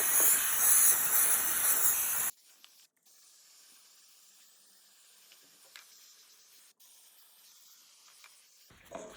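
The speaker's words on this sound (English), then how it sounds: "so we'll just spray over here as well" A spray bottle of soapy water lets out a loud, steady hiss for about two seconds onto vinyl plank flooring, then goes quiet apart from faint background noise.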